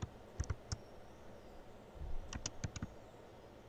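Keys clack on a computer keyboard in a few sparse clusters of quick, crisp taps, fairly close and quiet against a faint background hum.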